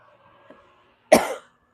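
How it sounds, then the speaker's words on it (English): A single sharp, close cough bursts out after a near-silent stretch in a home kitchen during pasta cooking, with only faint background sound before it. "Let me get my water so I'm not coughing in your guys' face."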